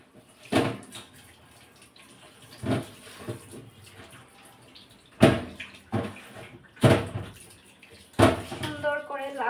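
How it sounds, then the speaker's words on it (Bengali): A peeled bottle gourd is washed under water in a home kitchen, with intermittent splashes and knocks of handling up close, and someone speaks over the washing. "সুন্দর করে লাউটা ধুয়ে নিচ্ছিলাম।"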